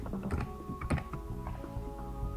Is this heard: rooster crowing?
no